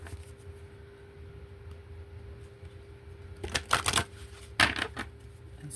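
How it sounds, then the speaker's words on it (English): A deck of tarot cards being shuffled by hand, two short bursts of riffling and flicking close by in a quiet room, the first longer and the second brief. "I'm just gonna shuffle these real quick."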